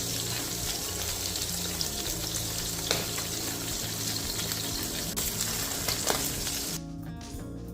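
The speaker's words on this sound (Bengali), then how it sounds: "ভাজা হয়ে গেছে, এবার মাছগুলো উঠিয়ে নেব।" Fish pieces frying in oil in a pan give a strong, continuous crackling sizzle with occasional sharp pops, easing off near the end, and no talk.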